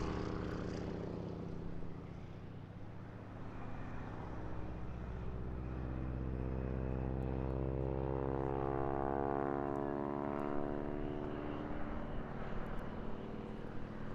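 Two aerobatic propeller aircraft fly close-formation maneuvers at the Eastbourne airshow, their engine drone rising and falling in pitch as they pass, fairly distant and moderately loud, with no voices.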